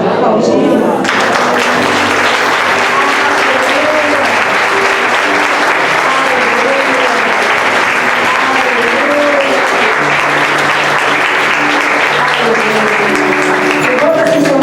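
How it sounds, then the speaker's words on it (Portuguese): Sustained loud applause from a large church congregation during a sermon, steady clapping filling the whole stretch, with faint voices and a low musical drone underneath. "Aplaudindo."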